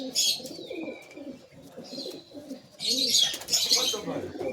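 Flying pigeons kept at a home loft coo in low, throaty bursts, with wings flapping loudly in brief flurries and some chirps between, close by and without talk.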